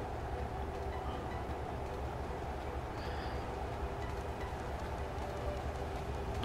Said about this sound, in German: Oh, links kommt doch wieder der Zug, ne?